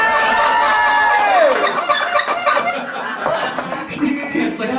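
A song on a live radio show, with clucking, crowing-like chicken sounds over busy music, the clucks coming in quick, chattering bursts, fairly loud and close.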